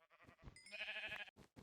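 Sheep bleating in Minecraft: one drawn-out, wavering bleat rises after a few short grunts, followed by two brief softer calls, heard alone and fairly faint.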